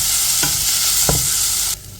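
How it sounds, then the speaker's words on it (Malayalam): Kashmiri chili powder being stirred into sizzling tomato rice, with a steady broadband hiss of frying and two soft scraping strokes of the spoon, ending abruptly after the sizzle drops away. "നമ്മൾ അതിലെല്ലാം ആഡ് ചെയ്തിട്ടൊന്ന് മിക്സ് ആക്കുന്നുണ്ട്"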